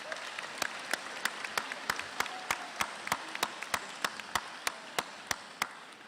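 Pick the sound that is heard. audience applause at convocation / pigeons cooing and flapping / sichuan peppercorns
audience applause at convocation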